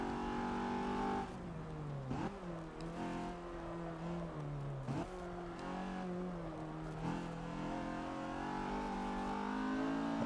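A BMW E30 M3 race car drives on the Nürburgring track, its engine droning steadily and shifting pitch through gear changes and corners, heard from close by and alone for about ten seconds.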